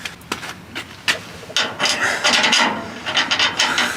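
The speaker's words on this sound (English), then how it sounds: "Just using the stepper bit as like a deburring tool." A step drill bit used as a deburring tool grinds around a drilled hole in metal, a close, raspy scraping that starts in short strokes and then runs steadily for a couple of seconds.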